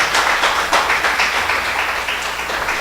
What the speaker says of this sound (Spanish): Dele un aplauso fuerte al Señor, hermanos.